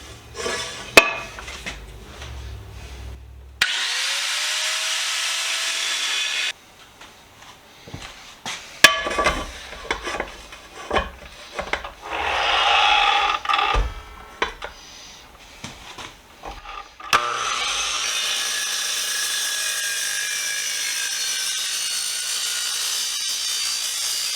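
An angle grinder cuts into a cracked aluminum pan in bursts, with loud harsh grinding and scraping that stops and restarts, separated by clanks and quieter handling noises.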